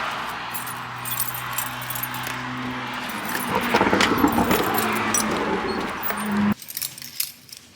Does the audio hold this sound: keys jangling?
yes